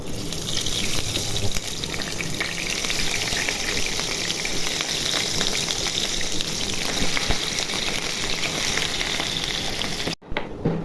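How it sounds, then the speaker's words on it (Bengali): Pieces of katla fish fry in hot oil, making a dense, steady, close sizzle that crackles evenly throughout before a brief break near the end. "তেল গরম হয়ে গেছে, এখন মাছগুলো ভেজে নিব।"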